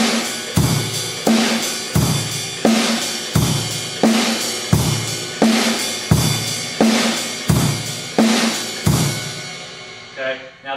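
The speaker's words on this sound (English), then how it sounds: "I'm going to keep quarter notes on the hi-hat and 1 and 3 on the bass drum" Basic rock beat on a drum kit, quarter notes on the hi-hat, bass drum on 1 and 3 and snare on 2 and 4, played at a steady moderate tempo, close and loud with roomy ringing decay, ending on a final hit.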